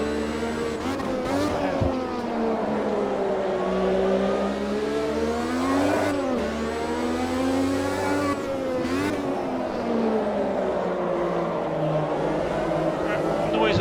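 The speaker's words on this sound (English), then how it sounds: "Squealing, it's not a good noise, it means we're losing a bit more rubber" Tyres squeal on a 1985 Formula 1 car in Automobilista 2 at the Brazilian Grand Prix, a high screech riding over the steady, loud drone of the revving engine as it shifts pitch through corners. Talk runs throughout.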